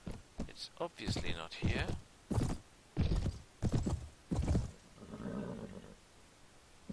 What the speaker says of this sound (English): this horse is so slow I will not get away